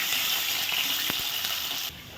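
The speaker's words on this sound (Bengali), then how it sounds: "আলুগুলো নেড়ে চেড়ে ভেজে নেব" Potatoes sizzle and fry steadily in a hot pan, a loud continuous hiss with a few faint stirring knocks, ending slightly quieter; no talking.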